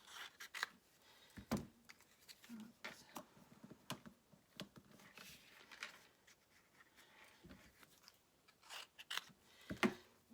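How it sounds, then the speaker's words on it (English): Scissors snipping out three leaves from Garden Green cardstock for a layered card, a quiet run of short crisp cuts and rustles with small pauses between them, no voices. "I'm going to bring in some Garden Green cardstock, and I'm going to cut out 3 of the leaves"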